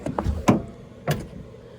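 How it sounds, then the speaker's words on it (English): A door on a 1986 Chevy K10 pickup truck slams shut with a short metallic thud close by, followed by a faint rattle as the door fails to latch fully. "And that door did not close all the way"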